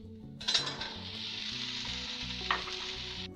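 Green peas hit a hot pan with asafoetida, garlic and ginger, setting off a sudden loud sizzle that holds steady with light stirring for about three seconds, then cuts off.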